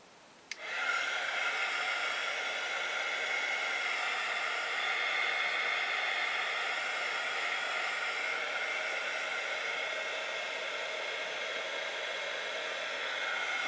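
A heat dryer switches on with a click and blows a steady, even whooshing roar while drying modeling paste, continuous and close, with no talk.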